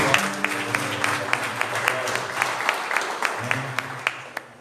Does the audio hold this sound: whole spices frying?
no